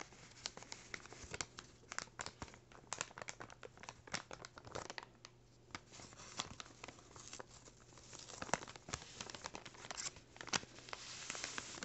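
A paper bag is crinkled and handled up close in a quiet room, giving dense crackling bursts and sharp rustles with brief pauses between them.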